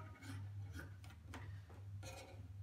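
Fabric is cut for a pajama top: a few soft rasping strokes, each sliding briefly through the cloth, close and fairly quiet, with no talking.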